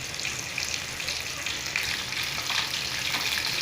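Quail pieces deep-frying in hot oil for a Tamil-style kaadai fry, giving a steady, dense, crackling sizzle that holds at an even level throughout, close and loud with no voices over it.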